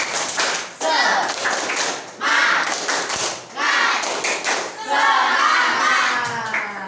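A classroom of children claps a rhythmic spirit-clap pattern in bursts of quick hand claps and thumps, fairly loud and close, with some voices mixed in.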